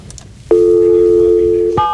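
A landline phone's steady dial tone comes on abruptly and holds loud and constant for over a second, then shifts into a brief higher multi-tone beep, heard while placing a call in a busy studio setting.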